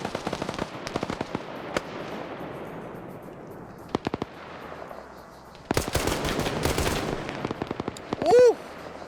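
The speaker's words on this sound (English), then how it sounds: "SPG-9's acting as basically an indirect weapon at this point." Rapid machine-gun bursts and sharp gunshots from an Arma 3 battle with SPG-9 recoilless rifle fire, set in a Panama invasion operation, come in loud clustered volleys with a brief tonal whistle near the end.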